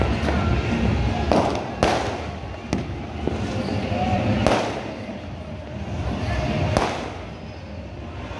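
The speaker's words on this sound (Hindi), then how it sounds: "पटाखों" Firecrackers going off outdoors during a celebration, with several sharp loud bangs standing out against a steady, dense background of crackling and crowd noise.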